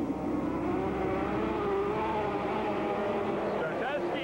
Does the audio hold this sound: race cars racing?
yes